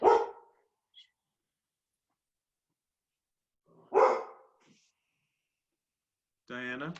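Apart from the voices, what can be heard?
dog barking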